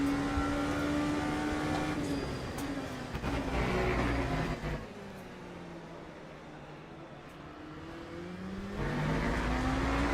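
An LMP3 race car engine in the Le Mans Ultimate sim racing game revs up and down through gear changes, rising and falling pitch sweeps, easing off midway before picking up again, with no talking.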